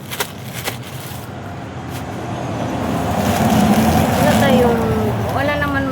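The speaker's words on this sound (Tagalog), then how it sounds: "Kaya minsan maingay mga sasakyan na dumadaan." Vehicles passing on a national highway beside a roadside shop in the Philippines, a steady traffic rumble that swells as a vehicle approaches and goes by, with a rising engine whine near the end.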